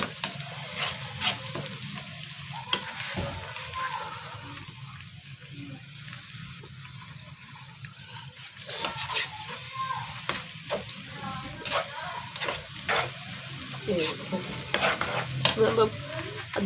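Chopped garlic frying in oil in a kadai gives a soft, steady sizzle with light stirring scrapes and clinks, fairly quiet and with no talking.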